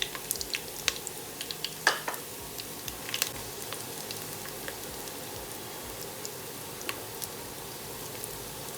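Soft continuous sizzle of onions frying in oil with bay leaf and green chilies for Kacchi biryani, steady and fairly quiet, with scattered light crackles and occasional stirring clinks.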